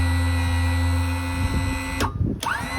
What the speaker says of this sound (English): We officially have a working winch.